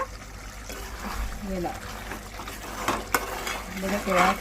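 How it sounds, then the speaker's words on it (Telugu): Fish and cucumber curry being stirred with a spoon in a pot after salt goes in, giving soft wet scraping and gentle bubbling close by, with a brief clack near the middle and louder stirring toward the end. "ఇప్పుడు సాల్ట్ వేసాం కదా కలుపుకుంటున్నా."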